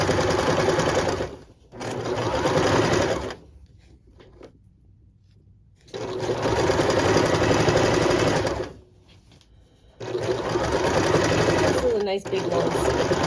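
A sewing machine stitches the outside seam and pocket of pajama pants in three loud, steady runs separated by short quiet pauses, close up, with speech heard during the clip.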